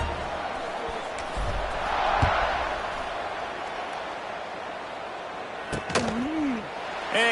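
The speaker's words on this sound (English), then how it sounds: "this crowd is buzzing after that last score" Football stadium crowd at an Oregon Ducks game, a broad steady buzz of many voices after a touchdown, with a commentator talking over it and a few sharp thuds near the end.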